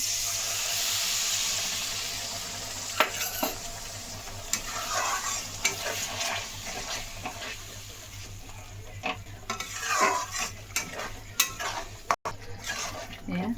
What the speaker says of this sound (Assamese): অকণমান পানী দি আকৌ ভাজি ল'ম।